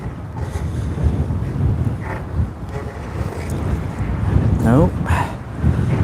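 Hard wind blows outdoors beside a road, a steady rumbling roar buffeting the microphone throughout, with a brief spoken word and some faint movement sounds over it.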